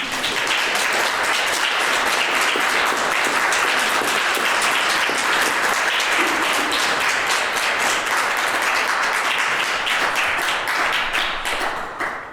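Dense, sustained applause from an audience at a youth poetry finals in Milwaukee, loud and steady throughout before tapering off at the very end.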